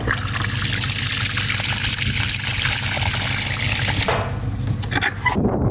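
Water pours steadily and loudly from a rainwater collector being rinsed out on a homestead, a continuous close splashing gush that runs for several seconds before tapering off.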